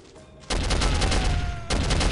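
Sustained machine gun fire in Soldier of Fortune: a loud, dense rattle of rapid shots that kicks in after a brief quiet start and continues to the end with a short dip partway.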